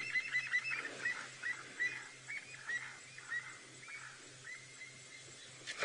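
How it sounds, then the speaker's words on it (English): Crested francolins call in agitation from behind the listener, a series of faint, repeated harsh cackles over a low rhythmic hum outdoors. "we heard some crested francolins, very upset crested francolins behind us"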